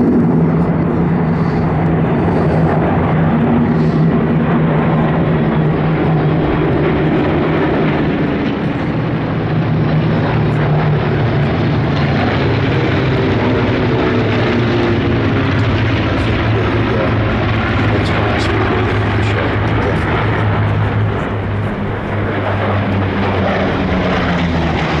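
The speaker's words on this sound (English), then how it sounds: "Endless energy in that Mark V Spitfire." A Mark V Spitfire flies past at an airshow, its propeller engine a loud, sustained roar that swells and shifts in pitch as it passes, heard for the full length without any talk.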